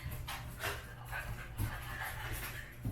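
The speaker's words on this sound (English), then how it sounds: "The dogs that I'm babysitting are playing." Dogs being babysat play in a home kitchen, with steady panting breaths and soft scuffling close by, continuous over a low background hum and no talking.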